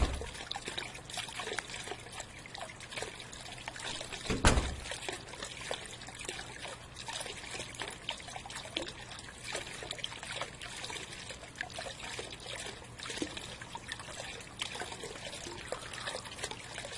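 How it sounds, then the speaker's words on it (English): Faint, steady trickling video-game water runs continuously, with a brief sharper splash near the start, quiet and somewhat distant. "Wait a minute, I hear water,"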